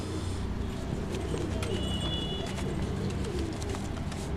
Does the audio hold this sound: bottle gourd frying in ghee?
no